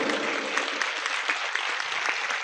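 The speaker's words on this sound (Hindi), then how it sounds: "हम एक बार ताली हो जाके" Audience clapping at a spiritual talk, a dense, steady round of applause filling the whole stretch at moderate loudness, with no voices over it.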